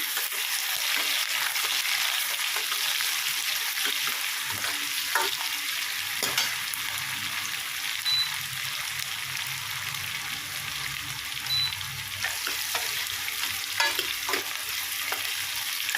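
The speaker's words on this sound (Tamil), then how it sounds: "இப்போ பூண்டு வெங்காயமும் நல்லா வதங்கணும்." Garlic and onion sauté on an induction stove for a spicy drumstick and potato curry, giving a steady close sizzle throughout with occasional stirring scrapes and no talk.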